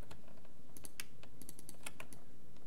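Mouse clicks in Maya 2018 while modeling a 3D pillow: a run of sharp, close clicks in an irregular rhythm, some in quick double-click pairs, with no voices.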